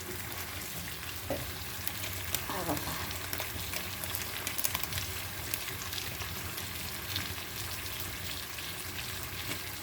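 Masala for a fish curry fries in a pan with a steady, dense sizzle and occasional crackles, close and continuous, with no talking over it.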